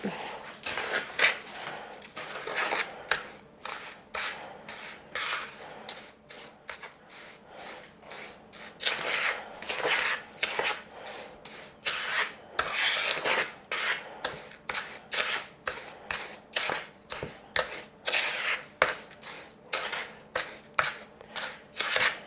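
Homemade dishwasher detergent powder mixed in a big mixing bowl, producing repeated gritty scraping and rubbing strokes in an uneven rhythm for over twenty seconds, close and moderately loud.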